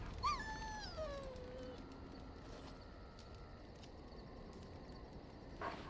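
A dog whimpers and yips in Dragon Age: Origins, a few high, falling whines near the start over a faint ambient hum, then quiet background, all soft and low in level.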